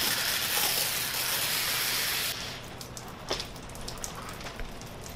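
A soft wash sprayer hisses steadily as it sprays over an awning for about two seconds, then cuts off, leaving scattered drips and light patters close by.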